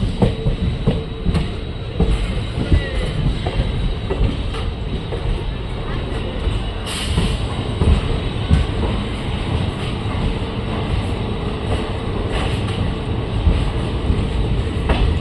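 A train rumbles past Belagola railway station with a broad, continuous roar, rattling clatter and occasional sharp metallic knocks over fifteen seconds, with people speaking faintly in the background.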